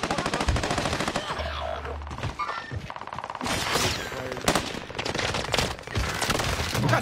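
Rapid automatic gunfire in a first-person shooter video game, dense bursts of loud shots and clatter that fill the clip, with brief game sounds mixed in.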